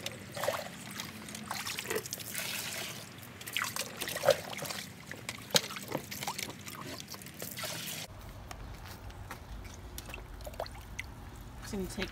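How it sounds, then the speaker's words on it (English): Collected rainwater is poured into a garden rain barrel, giving a soft trickling, splashing flow with intermittent drips and sloshes that quiets after a few seconds, close up, with a person speaking over it. "Let's put this water into my rain barrel, which has a good amount of water in it."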